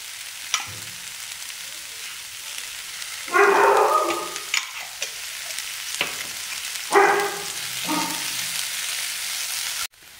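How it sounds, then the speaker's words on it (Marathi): Finely chopped onions frying in a little oil in a pan for chicken masala: a steady close sizzle, swelling into two louder bursts of crackling as the pieces are stirred. "दोन कांदे घेतले ते आपण बारीक कट करून, थोडंसं तेल टाकूया याच्यात."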